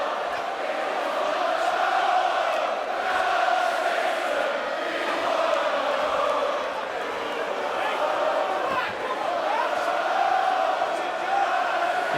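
Boxing crowd at a British and Commonwealth title fight roars steadily for Callum Simpson, a broad, sustained wash of cheering and shouting that fills the arena throughout.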